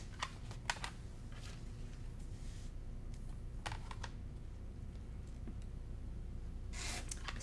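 Scissors cutting triangle paper and fabric for quilting produce faint, sparse snips and rustles, a few sharp crisp cuts scattered over a quiet background.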